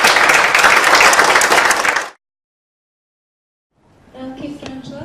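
Audience applause at a prize-giving ceremony for a group: loud, dense clapping for two seconds that cuts off into silence, followed by a softer burst of clapping near the end.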